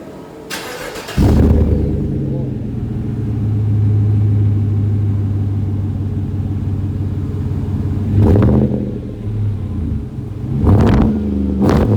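A GMC Sierra or Chevy Silverado with a 5.3L V8, muffler and resonator delete, single exhaust and double-wall stainless tip, fires up after a second, settles into a deep, steady rumbling idle, then blips the throttle in two short revs near the end.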